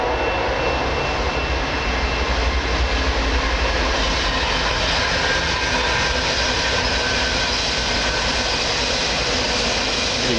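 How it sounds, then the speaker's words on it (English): A train passes on nearby railway tracks in fog, a loud steady rumbling roar that fills the whole stretch without pause, with no voices over it. "You can barely see the train through the fog."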